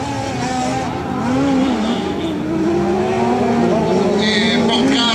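Autocross race cars with Boxer engines at an event in Conselve, a loud sustained engine drone with rising and falling revs as the cars accelerate, filling the whole stretch.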